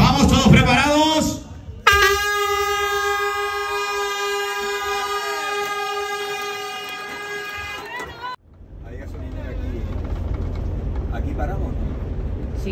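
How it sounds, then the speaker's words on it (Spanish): Air horn sounding the start of a cycling race, a single long loud blast lasting several seconds, with shouting and crowd noise before and after. "todos atentos a golpe de bocina"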